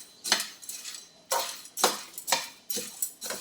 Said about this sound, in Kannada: ಹೀಗೆ ನಿಧಾನಕ್ಕೆ ಕೈ ಆಡಿಸ್ತಾ ಹುರಿತಾ ಇರಬೇಕು